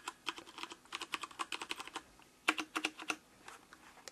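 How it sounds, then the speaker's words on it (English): Fingers type on a black Kogan mechanical keyboard with Cherry MX Brown switches, producing a quick irregular run of crisp clacks with a short pause midway, close and clear with no talking. "Cherry MX brown switches."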